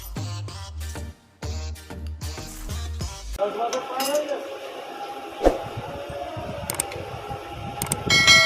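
A puller is used to remove the magnet from a Hero Glamour FI motorcycle engine with a timing chain problem, giving scattered close metallic clicks, taps and clinks. The sounds follow a stretch of stepped tonal notes at the start.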